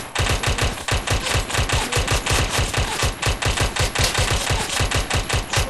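Aplok toy Glock 17 gun firing many pellets, a fast, loud, steady train of sharp mechanical clacks that runs for several seconds with no pause.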